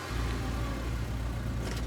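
Engine of a police squad car in the Scarlet Hollow video game, a steady low mid-range hum running alone and evenly throughout the short stretch.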